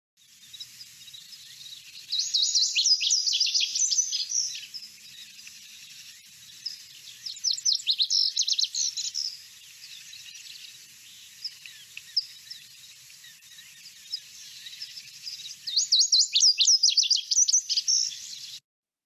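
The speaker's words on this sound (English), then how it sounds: "So a reminder of the bunting again," Bunting song of tinkling, musical paired notes, repeated in three clear bursts with quieter twittering between them, fairly near and without any other sounds.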